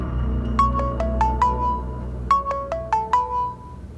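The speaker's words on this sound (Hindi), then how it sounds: "अच्छा हुआ आपने कॉल कर लिया आरिस, मैं आपको ही फोन करने वाली थी" A phone ringtone plays a bright electronic melody of quick rising and falling notes, heard as two short bursts separated by a brief pause, close and clear.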